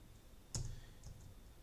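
A single sharp computer mouse click in a quiet room, brief and close, followed by a softer faint click.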